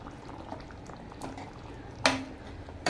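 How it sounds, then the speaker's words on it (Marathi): Mango raita curry bubbles in a pot, giving faint, quiet simmering pops and gurgles, with one sharper clink or splash near the end. "छान उकळी आलेली आहे."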